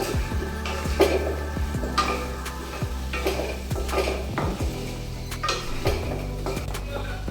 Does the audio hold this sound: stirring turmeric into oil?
yes